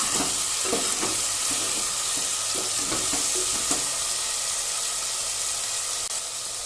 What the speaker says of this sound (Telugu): అల్లం వెల్లుల్లి పేస్ట్ బాగా ఫ్రై అయిందండి ఇప్పుడు మనం టమాటా ముక్కలు వేసుకుందాం ఒకసారి కలుపుకున్నాం